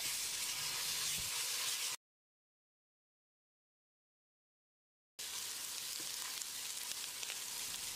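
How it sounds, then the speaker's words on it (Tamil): Ginger garlic paste fries with onions in a pan for a chicken kulambu, a steady close sizzle with faint stirring scrapes, cut by a silent gap of about three seconds before the sizzling resumes. "1 டேபிள் ஸ்பூன் இஞ்சி பூண்டு விழுது சேர்த்து பச்சை வாசனை போகிற அளவுக்கு ஃப்ரை பண்ணிக்கலாம்."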